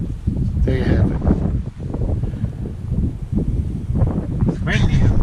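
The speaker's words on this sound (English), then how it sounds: "It's windy up here." Gusty wind buffets the microphone in low rumbling bursts, loud and close, with a voice speaking over it at times.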